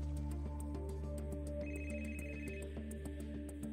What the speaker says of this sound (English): woke up to the sound of his phone ringing